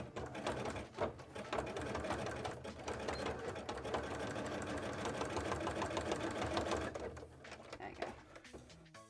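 A sewing machine runs in rapid bursts, stitching reinforcement seams into sparkly cosplay pants at the leg joins, its needle clatter close and steady with brief pauses between runs.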